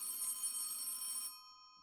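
A telephone bell rings in the horror game Sanatorium, a steady bright electronic trill for about a second and a half that cuts off abruptly, leaving a faint tonal tail.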